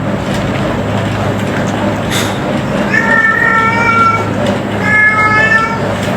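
A cat meows repeatedly, a few drawn-out calls close by, over a steady low hum.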